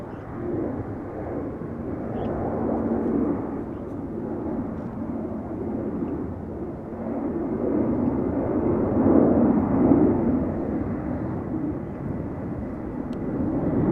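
A 29-year-old Airbus A300 jet freighter's engines growl in a deep, sustained roar at Amsterdam airport, steady and fairly loud, swelling slightly toward the middle with no voices.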